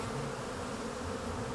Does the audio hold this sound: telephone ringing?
no